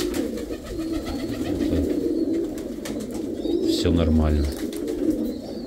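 Pigeons cooing inside a dovecote, soft repeated throaty coos close by, with a rolling coo near the end, while someone talks briefly over them.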